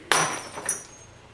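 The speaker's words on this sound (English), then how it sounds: "Did I just hear a glass shatter?" Glass shattering inside a house in the Roblox Bloxburg game: a sharp crash at the start with bright ringing shards, then a second smaller clink a half second later, close and fairly loud with no talk.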